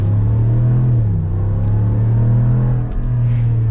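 A 2022 Ram 1500 Rocky Ridge K2 pickup with a Hemi V8 accelerates, its engine a loud, deep, steady drone that rises through the gears with a brief dip at each shift.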